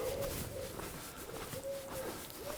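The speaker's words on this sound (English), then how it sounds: "Pigeons are in full song" Pigeons cooing outdoors on a morning walk, a few soft, rounded coos repeating at close to moderate distance over steady background noise.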